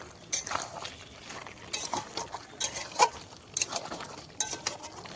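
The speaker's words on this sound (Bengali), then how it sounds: "এবার একটু ভালো করে কষিয়ে নেব।" Mutton curry with potatoes being stirred and fried in a pan, with repeated scraping and clinking of a spoon against the metal, close and moderately loud, under a faint sizzle and with no talking.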